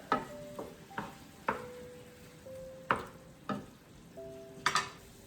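Food frying in a pan gives a low, steady sizzle, punctuated every half second or so by sharp metallic taps and scrapes of a utensil stirring, close up with no voices.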